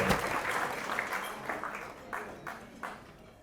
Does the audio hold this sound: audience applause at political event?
yes